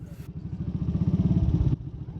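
A classic BSA B33 British big single-cylinder motorcycle engine running, giving a quick, rhythmic thumping beat that swells louder before cutting back, with no talk over it.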